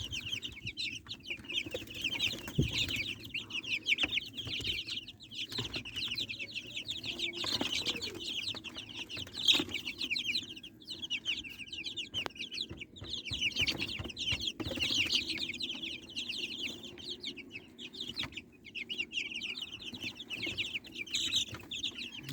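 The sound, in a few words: baby chicks chirping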